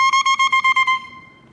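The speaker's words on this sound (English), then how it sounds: "the 2 pieces of cane will blow together to make a sound like this" A bassoon-type double reed of cane is blown on its own, giving a bright, buzzy, nasal squawk. It pulses in about seven quick, regular bursts, then holds as a single sustained tone that fades out.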